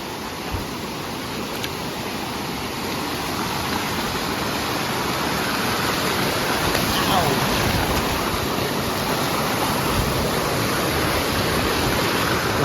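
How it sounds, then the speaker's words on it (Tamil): River water flows at Sungai Pisang waterfall near Kuala Lumpur as a steady, loud, broadband rush that fills the whole stretch without a break and grows slightly stronger partway through. "ஆற்றுல தண்ணி கம்மியாக போகிற மாதிரி இருக்குது, நம்மளை இழுக்குது."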